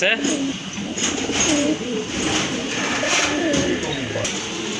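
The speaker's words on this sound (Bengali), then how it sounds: "আরেক জোড়া কবুতর অনেক বড় সাইজের এক জোড়া ম্যাকপাই পোটার কবুতর" A pair of large magpie pouter pigeons coo in repeated throaty rolls at close range, mixed with other birds and speech-like chatter in a busy pigeon market.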